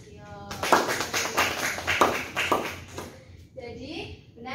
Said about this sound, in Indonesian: Beri tepuk tangan dulu sama Bistio.